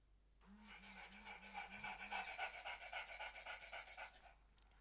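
Elephant Robotics MetaDog robotic pet dog panting in a steady run of quick, rhythmic breaths, close and fairly quiet, with no talking.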